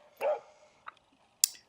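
A dog gives one loud bark, followed by a softer yelp and then a sharp high yip, with quiet pauses between them.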